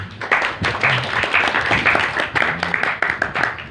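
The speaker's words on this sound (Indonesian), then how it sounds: "tepuk tangan buat Yai Mul" A crowd claps steadily at an event at an Islamic boarding school in Gunungpati, a dense patter of applause that holds level for several seconds.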